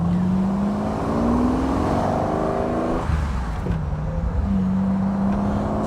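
A 1972 Jaguar E-Type V12 Roadster warming up: a smooth, steady engine note close by, rising and falling in pitch as revs climb and settle, with no voices.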